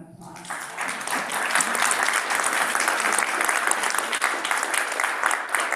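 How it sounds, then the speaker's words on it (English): At the State of Transit 2026 event in Metro Detroit, the audience gives itself a round of applause that swells quickly after a quiet start into loud, steady clapping from a big crowd, sustained to the end. "So please give yourself a round of applause."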